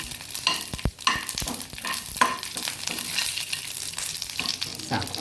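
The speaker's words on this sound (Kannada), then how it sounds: "ಇನ್ನು ಸ್ವಲ್ಪ ಮೆಣಸನ್ನು ಇದರಲ್ಲಿ ಫ್ರೈ ಮಾಡ್ಕೊಳ್ಳೋಣ." Chillies fry in oil in a pan, sizzling steadily while a spoon scrapes and stirs, with occasional clinks over the constant frying hiss.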